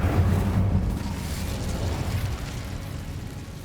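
An Incendio fire spell cast in the Hogwarts Legacy video game bursts with a loud, low whooshing roar at the start, then settles into a sustained rumbling crackle that slowly fades over a few seconds.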